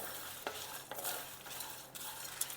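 Coconut pieces and cumin seeds roasting in a pan, a soft continuous sizzle with a few scraping stirs, quiet and close with no voices.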